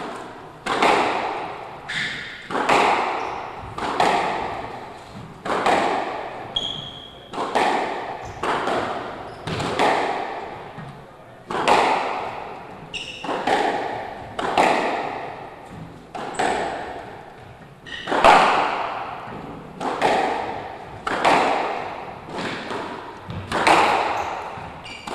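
A squash ball is struck back and forth in a long rally during the 2014 men's open final. Hard thuds and pings off racquets and walls repeat at a steady, near-regular pace of about one per second, loud and close.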